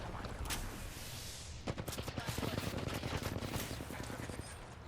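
Rapid automatic gunfire in Apex Legends Season 9 rattles in fast bursts, fairly close and steady for several seconds. Speech is mixed in beneath it.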